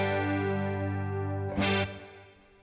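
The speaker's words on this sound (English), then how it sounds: "It's just adding a little bit of reverb. Think of it as a reverb preset switch, I suppose." An electric guitar played through a NUX Mighty Plug Pro headphone amp in its Stage Feel mode rings out as one sustained chord with light reverb, followed by a brighter strum that fades away.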